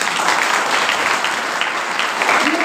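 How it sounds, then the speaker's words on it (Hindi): A church congregation claps steadily and loudly, a dense wash of applause that holds without pause from start to finish. "इनके लिए एक बार तो आप ताली बजाओ।"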